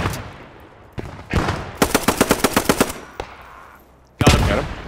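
FG-40 automatic rifle firing in the World War II shooter Post Scriptum, near Carentan: a few single loud cracks, then a rapid burst of about ten evenly spaced shots, close and prominent, followed by another sharp report.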